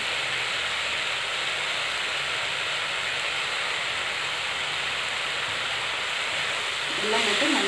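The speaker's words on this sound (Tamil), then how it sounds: "இந்த மசாலாலாம் சேர்த்து நல்லா ப்ரௌனாக ஃப்ரை ஆகிடுச்சு." Mushroom biryani masala frying in a pan, a steady, dense hiss and sizzle that holds at an even level throughout, close and loud, with a brief clink near the end.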